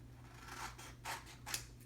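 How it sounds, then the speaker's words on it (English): Scissors snipping through orange paper, three distinct cuts in quick succession, close and quiet with no talk. "she took out her scissors, because she always had a pair of scissors in her back pocket, and she cut a roof"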